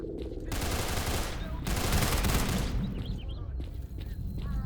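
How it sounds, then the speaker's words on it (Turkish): A gunfight in the game S.T.A.L.K.E.R. Call of the Zone, with dense bursts of automatic gunfire coming in loud sustained volleys and brief pauses between them, plus faint chirps in the gaps. "İçeride deli çatışma var."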